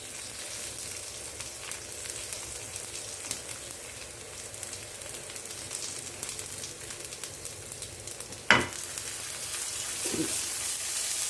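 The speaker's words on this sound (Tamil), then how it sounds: "கடுகு ஒரு புறம் வெடிக்கட்டும் இந்த பக்கம் வெங்காயம் பச்சை மிளகாய் போட்டுக்கலாம்" Mustard seeds sizzle and crackle steadily in hot oil, with a sharp clatter near the end and a brief thud after, no talking.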